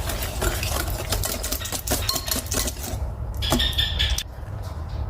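Sugar, egg, vanilla and oil being mixed for a cocoa batter, a busy continuous clatter of a utensil against a bowl under a steady broadband background, with a brief clinking patch near the end.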